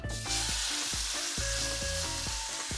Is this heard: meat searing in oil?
yes